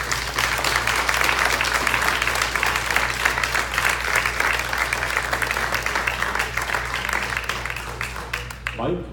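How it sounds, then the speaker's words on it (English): Audience at a 2018 Delaware Republican US Senate debate applauds both candidates, a steady loud wash of clapping that lasts about nine seconds before tapering off, with a low hum beneath. "if you would all please give both candidates a big round of applause."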